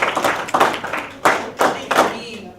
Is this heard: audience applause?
yes